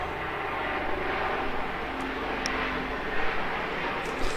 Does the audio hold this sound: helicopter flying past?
yes